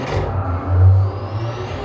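Engine drone of a car driven in Gran Turismo 7 with an engine swap, a steady low hum that swells briefly mid-clip, with no talking.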